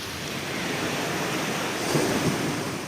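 Rough sea surf on the Tamil Nadu delta coast during heavy rain: a continuous loud roar of waves and wind that swells briefly midway, with no voices.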